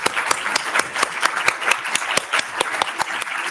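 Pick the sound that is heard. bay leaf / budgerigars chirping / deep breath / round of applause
round of applause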